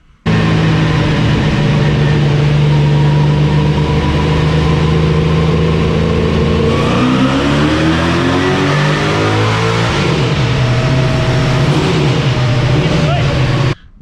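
A Camaro's engine runs hard while strapped to a dyno for a pull, a loud, sustained roar that climbs in pitch as it revs through the gears, then settles to a steady drone before cutting off abruptly.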